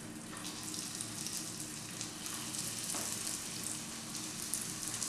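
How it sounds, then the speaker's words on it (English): Carrot and oat koftas fry gently in a pan with very little oil, giving a soft, steady sizzle and crackle throughout, faint and close with no voices. "Now I'll be dropping these koftas into this."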